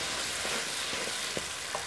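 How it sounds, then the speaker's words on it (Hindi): Onions fry in a pan with a continuous close sizzle, broken by a few faint clinks of stirring. "प्याजों को अच्छी तरह फ्राई कर लेना है।"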